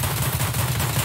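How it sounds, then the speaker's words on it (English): Sustained gunfire from a video game match on the Woods map: a dense, steady burst of rapid shots with a constant low-mid roar and no clear gaps, loud and close throughout. "But I'm shooting a guy down here"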